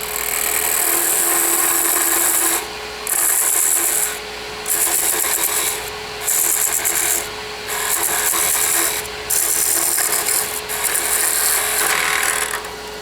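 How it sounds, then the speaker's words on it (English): A wood lathe parts off a turned Christmas ornament, the tool's rasping, rubbing scrape arriving in repeated bursts broken by short pauses, with a steady motor whine running underneath and no talking. "And now all I really have to do is part this off."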